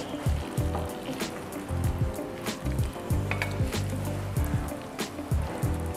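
Eggs cook in a pan with tomatoes and soy sauce, a close, steady sizzle broken by rhythmic scraping and stirring strokes that repeat every second or so, with no voices.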